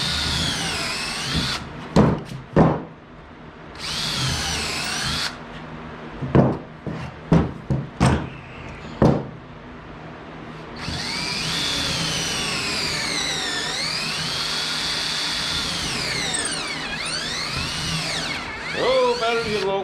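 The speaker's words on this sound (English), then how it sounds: "we'll go ahead and drill this one too" A battery-powered drill bores into wood for a saguaro cactus build: several short, loud whirring bursts, then a long sustained run with rising and falling motor pitch, with occasional speech.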